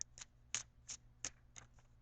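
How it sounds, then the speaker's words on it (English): Tarot cards being shuffled by hand, a series of about seven crisp riffling bursts in a steady rhythm, close and fairly quiet, with no talk. "I'm going to shuffle for your outcome card"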